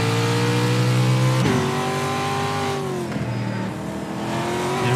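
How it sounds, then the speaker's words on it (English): Ford Fiesta Pro 2 Lite race car in iRacing's Daytona dirt setup, engine droning loud and steady, then a sharp throttle blip and shifting pitch as revs rise and fall under braking. "you hear lots of manipulation of the throttle just to keep the car balanced under the brakes"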